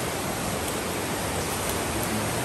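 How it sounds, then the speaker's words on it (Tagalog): A steady, loud rush of fast-moving flood water fills the whole clip, a dense roaring wash with no pauses, close by. "Yung current talaga ng tubig, ay malakas na"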